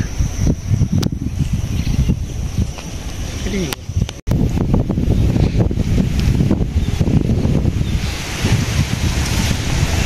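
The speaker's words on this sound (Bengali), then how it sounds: "বাতাস উঠে গেছে।" Strong gusty wind under dark storm clouds in a village, roaring steadily into the microphone with heavy rumbling buffeting throughout and a brief dropout midway; no words are clear over it.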